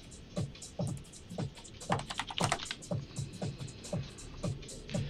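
Typing on a cheap $11 Walmart computer keyboard, a close, steady patter of individual keystrokes with a brief faster flurry midway.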